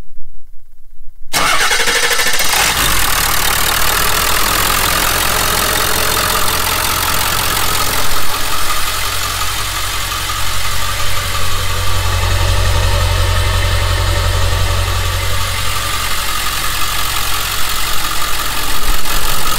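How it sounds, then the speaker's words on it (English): A red 2002 Ford F-350 Super Duty pickup that has sat unused for a while cranks briefly and fires up loudly after a moment of silence, then settles into a steady, rumbling idle close by. "we're gonna do the cold start. It's not very cold out here, but the motor hasn't started"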